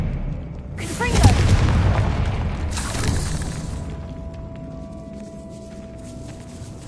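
A Confringo blasting spell bursts in a video game with a loud, close explosive boom, then a second rumbling blast a couple of seconds later, both fading into a low ambient hum.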